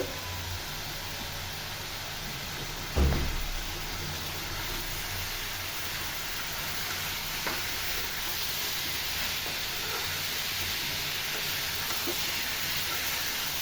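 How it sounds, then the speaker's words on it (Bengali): Pieces of sweet pumpkin fry in a pan with a steady, even sizzle and hiss throughout, close and constant. One dull knock comes near the start. "কিছুটা সময় ভেজে নিব।"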